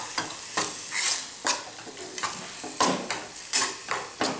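Beetroot frying for halwa in a pan: a soft background sizzle is broken by about a dozen rhythmic scraping strokes of a spoon against the pan, close and clear, with no voices.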